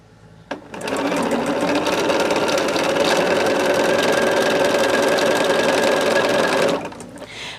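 A sewing machine stitches hourglass quilt blocks in one steady, fast, close run of several seconds, starting after a brief click and stopping abruptly near the end, with no talking.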